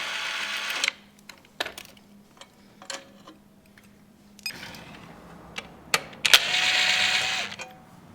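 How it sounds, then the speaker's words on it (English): Ratcheting clicks and metallic ticks of a 10mm wrench on a bolt on a Talaria Sting R electric dirt bike gearbox, coming in short irregular bursts up close with quiet gaps between them. "That's what your 10mm wrench is for, to wrench it back behind there."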